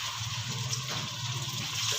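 Water splashes and hisses into a hot pan of onions fried light brown, a steady rushing pour lasting about two seconds with no voices.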